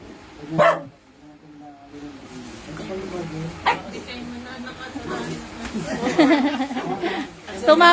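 A dog barks a few times amid a lively outdoor scene, with people chattering and laughing nearby throughout.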